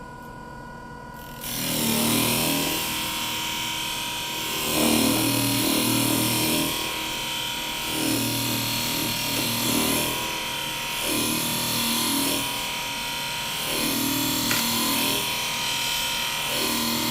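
Katoku donut sharpening plate spinning at about 1600 RPM while curved shears are sharpened, a steady motor hum with rhythmic grinding swells repeating every couple of seconds, close and moderately loud.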